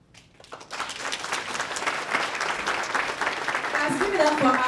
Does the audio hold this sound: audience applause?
yes